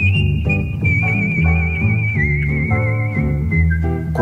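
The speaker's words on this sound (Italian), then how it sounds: "Era fenomenale quando fischiava le sue canzoni" A woman whistles a song on the radio, her clear wavering melody riding steadily above a rhythmic musical backing with bass and chords, loud and up front with no talking.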